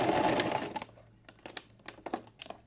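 A sewing machine stitches fabric for a homemade pencil case. A short, dense mechanical whir stops abruptly and is followed by scattered light clicks and taps nearby.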